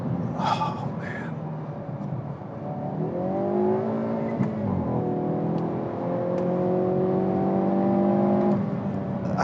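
Hyundai Veloster N engine heard from the cabin, pulling hard with rising revs, a quick shift midway, then climbing again, loud and continuous, with a short gasp-like sound at the start.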